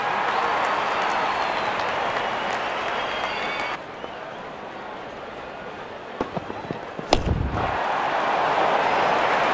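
Stadium crowd in the RC 24 cricket video game cheering and applauding a big six, a steady broad roar that drops briefly, then swells back with a sharp crack partway through.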